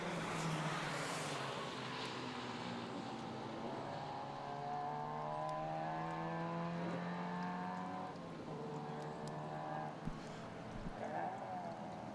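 A Gulf-liveried BMW-powered 9S race car runs past during circuit racing, its engine a steady loud drone with pitch sweeping down as it passes, voices talking over it throughout.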